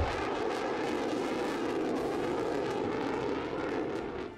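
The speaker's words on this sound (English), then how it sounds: "the F-35 Lightning II is the most advanced fighter jet in the world by a wide margin" An F-35 Lightning II fighter jet flying, a loud, steady broadband roar of jet engine noise that holds for several seconds before easing slightly at the end.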